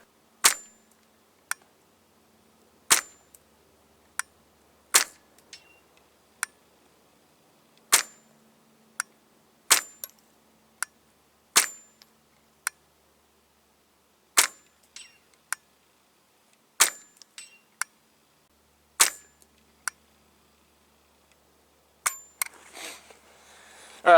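Rifle gunshots at an outdoor range are heard as a long series of sharp, distant-sounding cracks at irregular intervals, each brief and isolated against near silence, with a burst of rustling noise near the end.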